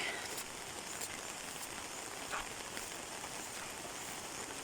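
Steady, soft hiss of rain falling, continuous and even throughout with faint scattered drops, heard from a distance with no voices.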